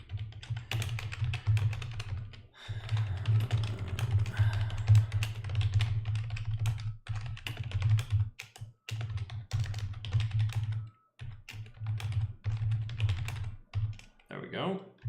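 Fingers type on a computer keyboard in irregular bursts of close, crisp clicks, with short pauses and a low hum running underneath.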